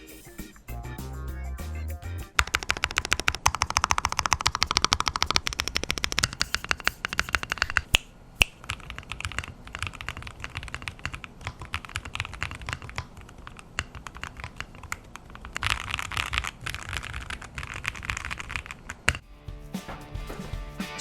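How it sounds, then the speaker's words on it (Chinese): Mechanical keyboard with Jinghai linear switches typed in quick, dense bursts of clacky keystrokes, close and loud, with brief pauses between runs and no talking. "就让我们来听一看这金海轴的声音表现吧"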